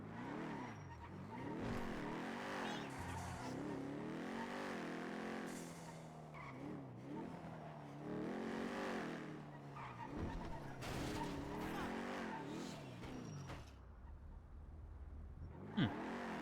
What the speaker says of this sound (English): Speeding car.